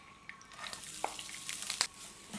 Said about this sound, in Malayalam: ഞാനൊരു ടേബിൾ സ്പൂൺ നെയ്യ് ഒഴിച്ചിട്ടാണ് ഈ തേങ്ങ വറുത്തെടുക്കുന്നത്.